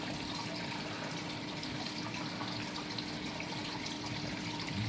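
Water flows steadily over new sand, silt and clay, a constant close wash of running water with no breaks and no talking.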